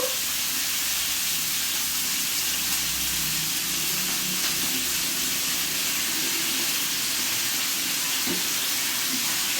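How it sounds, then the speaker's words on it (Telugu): Mutton pieces frying in hot oil with turmeric, a steady dense sizzle and hiss that holds evenly throughout, close and fairly loud, with no voices. "ఇప్పుడు ఇది ఆయిల్లో వేసేసుకుందాం"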